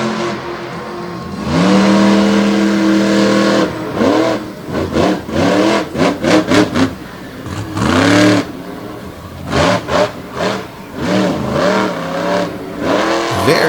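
Monster truck engine roaring and revving hard while smoking its tires on a dirt show track, loud repeated surging bursts rising and falling over about fourteen seconds, with no talk.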